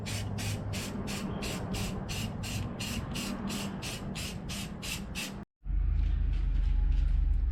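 Spray paint hisses from an aerosol can onto cut foam pieces shaped like Jeep Wrangler TJ mirror relocation brackets, in rapid rhythmic bursts for about five seconds, then a short gap and one steady, louder continuous spray.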